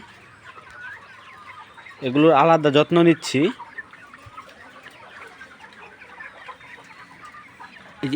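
Chickens kept apart because of an eye ailment with watery, pus-filled eyes let out a brief, loud burst of clucking close by, then go quiet. A person talks in the background.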